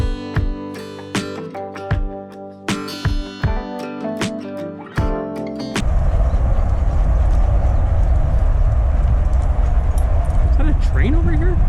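A train passes near a prairie park trail in Wichita, Kansas. Rhythmic clacking of wheels comes first, then a loud, continuous rumble with roar and squeal dominates the rest.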